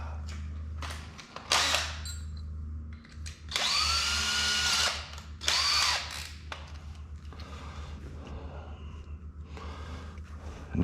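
A power drill bores ferrule holes in the door of an FFR MkIV roadster, running in a few short whirring bursts of a couple of seconds each between pauses, close up and fairly loud against a low steady hum.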